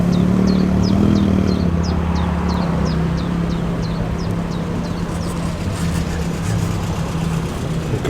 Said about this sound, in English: Great MG midget pulling into.